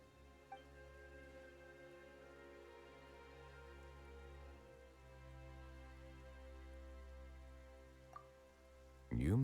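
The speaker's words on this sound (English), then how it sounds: "Why is it raining all of a sudden?" Rain falls in the video game Genshin Impact as a soft, steady patter with occasional drips, faint and continuous, under a low ambient hum until a louder voice cuts in at the very end.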